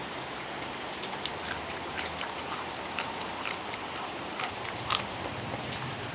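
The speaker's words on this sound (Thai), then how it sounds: "ฟังเสียงฝนไปเรื่อย" Steady rain falls on a rainy day at a home kitchen, a soft continuous patter with scattered louder drips and splashes popping out every second or so, fairly close and alone without talk.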